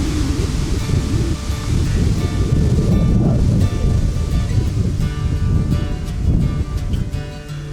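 Strong wind roars and buffets steadily outdoors at a tipi camp, a loud, dense rush that swells and eases slightly throughout.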